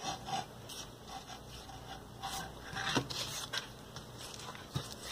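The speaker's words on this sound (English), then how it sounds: "we definitely have to butter the whole entire pan down" Butter rubbed across a frying pan before cooking eggs for a country breakfast gives soft, close scraping and rubbing strokes, repeated unevenly with a couple of sharper taps, and no voices.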